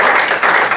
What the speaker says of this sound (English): Everybody give her a round of applause, man